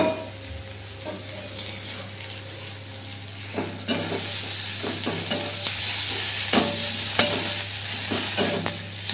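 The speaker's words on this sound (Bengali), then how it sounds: "জাস্ট জিরে, আদা, আর এর মধ্যে একটু রসুন দিয়ে আমি একদম ভালো করে ভেজে" Cumin, ginger, chili and garlic paste frying in a pan, a steady sizzle with intermittent scraping and stirring strokes that grow louder and more frequent midway.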